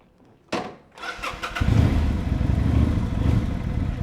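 A 1999 Kawasaki VN 800 C Drifter V-twin motorcycle starts up, a sharp crank and catch followed by a deep, loping idle that builds and settles into a steady, close rumble, heard alone.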